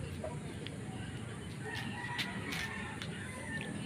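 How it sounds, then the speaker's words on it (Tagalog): Soft, low clucking of a hen murmurs over a steady outdoor background, with faint higher bird chirps scattered throughout. "Magtatawag yung inahin oh."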